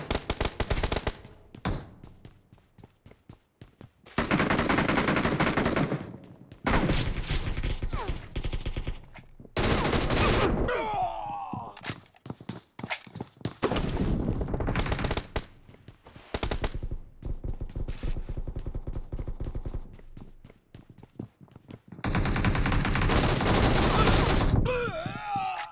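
Gunfire in the BGMI battle royale video game: repeated bursts of automatic fire and single shots come in loud clusters separated by brief quiet gaps.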